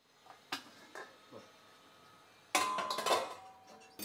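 A dhokla vessel of water chestnut flour batter is set down with a metallic clank into an idli steamer pot over boiling water, followed by a louder clatter of the lid closing; a few lighter taps come first.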